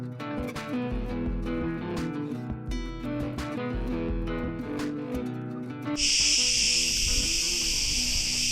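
Cicadas in an olive grove near ancient ruins in Greece, a dense, sustained high buzzing that swells in loudly partway through and continues steadily over a busy, tonal background.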